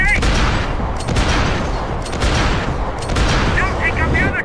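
Heavy, dense gunfire in the video game Max Payne 3, loud overlapping shots and booming impacts rolling on almost without pause, with shouted voices mixed in.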